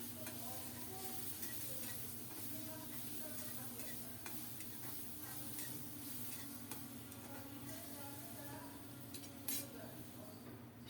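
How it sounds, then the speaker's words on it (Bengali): Mixed vegetables are sautéed in a pan with salt and turmeric, a faint continuous sizzle under repeated stirring and light clinks of a spoon against the pan. "সবজিটা কষানো হোক"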